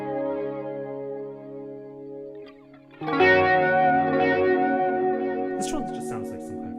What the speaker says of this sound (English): This one just sounds like some kind of a delay thing.